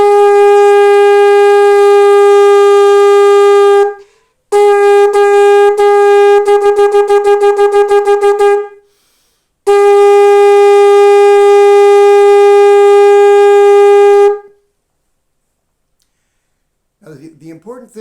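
Close, loud shofar playing the tekiah, shvarim and truah calls in sequence: a long blast, then broken pulsing notes and rapid staccato bursts, then another long sustained note, with a short murmur of voice at the very end.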